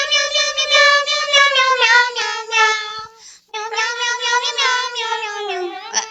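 Several people sing a tune together using only meowing cat-like voices, a continuous melodic chorus of imitated meows with a brief pause midway before resuming, close and loud during a live stream.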